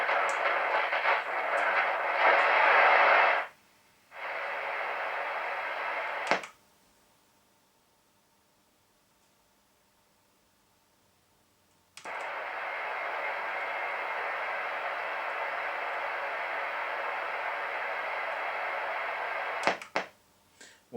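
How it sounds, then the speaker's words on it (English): Harsh hiss of static and interference from a Hoffman HF225 80-channel mobile CB radio, loud and steady, cutting out abruptly into near silence as the squelch closes, then snapping back on with a click. "it's very clunky squelch, which you just heard there"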